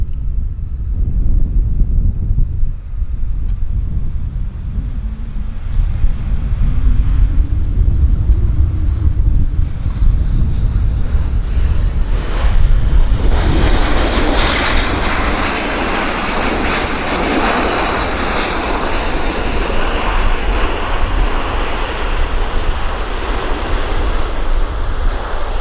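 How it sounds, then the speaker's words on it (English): An American Airlines jet arriving from Chicago lands at Vancouver airport, a loud, steady roar of engines and rushing air that swells and brightens partway through and holds to the end, with no talk. "So that guy just arrived from Chicago. That was the American Airlines Flight 1717."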